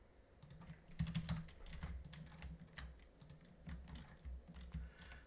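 Keys clatter on a computer keyboard in bursts of quick, light taps over about five seconds, close and fairly quiet, with no talking.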